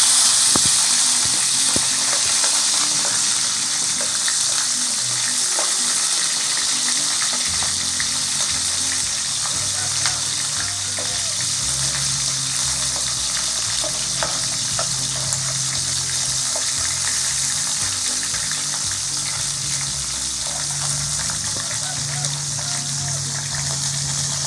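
Marsh crabs fry in hot oil for a Mekong Delta tamarind roasted crab dish, a loud, dense sizzle running without pause for over twenty seconds, with occasional stirring and faint voices in the background.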